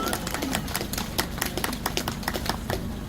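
Scattered crowd clapping at a political party event in Mangwon Market, Mapo-gu, with sharp irregular claps over a busy outdoor background and voices talking.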